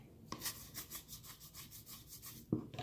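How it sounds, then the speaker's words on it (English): A toothbrush scrubbing a stain inside an essential oil diffuser, a soft rapid back-and-forth rubbing in close quick strokes, with a louder knock near the end. "So we're going to use the toothbrush and just scrub that."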